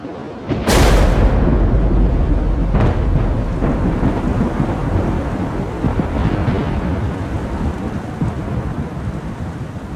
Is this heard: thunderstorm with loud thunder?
yes